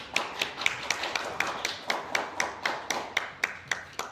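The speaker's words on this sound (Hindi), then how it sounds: "तालियों से अभिनंदन," Applause welcoming a guest at an organisational gathering, sounding as a small group's rhythmic, evenly spaced claps, about four per second, moderately close and fairly quiet, with no talk over it.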